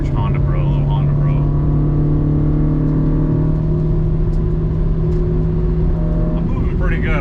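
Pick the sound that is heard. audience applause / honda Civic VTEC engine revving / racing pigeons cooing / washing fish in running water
honda Civic VTEC engine revving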